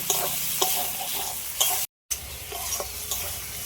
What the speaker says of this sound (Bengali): এবার আমি ভেজে রাখা আলুটা দিয়ে দিচ্ছি সবগুলো একসাথে একটু আর একটু ভালো করে কষিয়ে দেবো